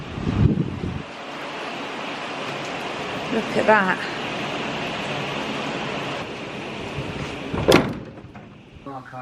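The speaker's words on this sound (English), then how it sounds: "It is absolutely pouring down here." Heavy rain pours down on a narrowboat, making a dense, constant hiss throughout, with a few knocks and a brief spoken remark over it.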